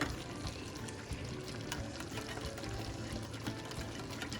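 Water rinses out the bottom of a tomato can that held leftover tomato paste, a steady close splashing and trickling hiss that runs on without a break.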